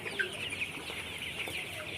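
Color Bird chickens, 31 days old, clucking softly in a poultry shed, scattered short calls close by over a quiet background.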